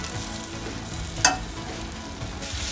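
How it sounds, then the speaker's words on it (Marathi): Chickpeas and moth beans hit hot spices in a pan for a Vidarbha-style rassa, giving a steady close sizzle with a sharp crackle as the frying continues. "आता आपले मसाले व्यवस्थित झाले, त्यामध्ये आपण ही चणे टाकूया आणि ही मटकी टाकूया।"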